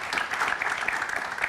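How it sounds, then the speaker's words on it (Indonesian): Studio audience on an Indonesian talk show gives a short, brisk round of clapping, dense and even, lasting under two seconds. "Oke, tepuk tangan untuk wanita Presiden."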